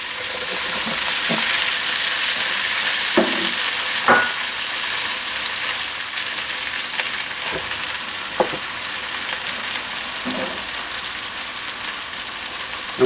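Mushrooms sautéing in oil with cooked bacon in a pan, a steady loud sizzle throughout with occasional clinks and scrapes of stirring.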